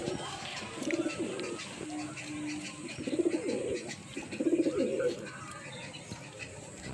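Madrasi pigeons coo in three warbling bouts, close and moderately loud, against a steady background hiss.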